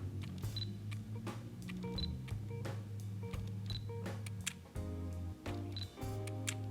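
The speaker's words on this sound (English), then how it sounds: "This is what the camera sounds like with sound on." An X100F camera with its shutter sound switched on gives a run of repeated sharp shutter clicks over a low mechanical hum from the focusing lens, quiet and close, with no voices.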